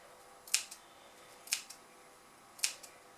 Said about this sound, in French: je prends mes ciseaux et je vais cranter légèrement mon passepoil